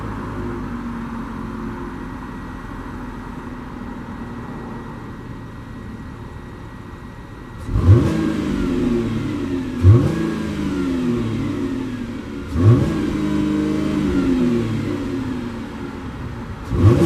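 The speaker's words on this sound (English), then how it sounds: "give you guys a quick sound of the exhaust on this vehicle" A 2019 final-generation Chevy Impala idles with a low, steady exhaust hum, then four sharp revs swell and fall away in turn, each a deep rising-and-dropping roar heard close at the tailpipe.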